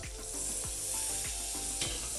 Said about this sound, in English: The trick to making buckwheat that doesn't get mushy in the pot is frying it first in some butter.